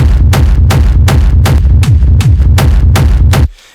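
A run of heavy, booming hard techno kick drums, an industrial kick layered with a rumble kick, about nine evenly spaced hits with a deep rumbling tail, ending abruptly.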